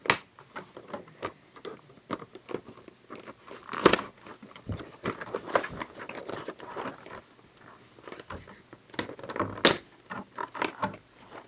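Plastic packaging rustles and crinkles as a Monster High doll is unboxed, with steady close clicks, taps and crackles of handling and no voice heard.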